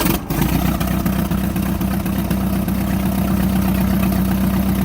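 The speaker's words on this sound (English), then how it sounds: "this is what the Moline sounds like before the rebuild" A 1949 Minneapolis-Moline Zau tractor engine runs before its rebuild, a loud steady idle with a deep rhythmic low-end chug, unbroken throughout.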